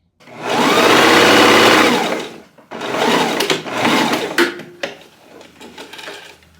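A home sewing machine stitches trim onto an apron, running in a loud, close, continuous whir, then pausing and restarting in shorter bursts with small clicks of handling in between.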